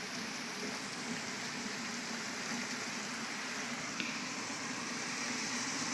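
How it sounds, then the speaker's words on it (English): Heavy thunderstorm rain pours down in a dense, uniform hiss that stays steady and fairly soft throughout, with no other sounds standing out. "It's pouring down rain,"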